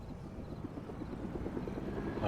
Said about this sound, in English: Oh, he's in a helicopter.